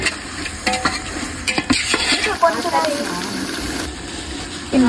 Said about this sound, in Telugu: గంట ముందు కలిపి పెట్టుకున్న చికెన్ వేసి బాగా మగ్గించాలి